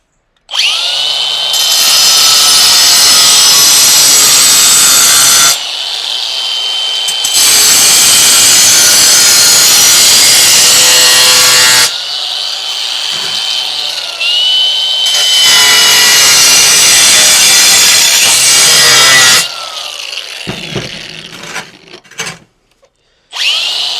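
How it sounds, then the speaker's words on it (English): Angle grinder plunge cutting a circle in floor tile for a toilet closet flange, loud sustained high whining bursts of cutting separated by short pauses, close and alone without talk. "you're lifting the grinder up almost 90 degrees and plunge cutting in at that point"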